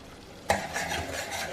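Homemade pizza sauce with crushed oregano is stirred in a pan, beginning with a sharp clink of the utensil and continuing as close, wet mixing over a gentle sizzle, with no voices.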